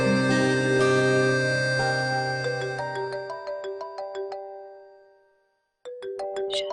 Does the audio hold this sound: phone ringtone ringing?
yes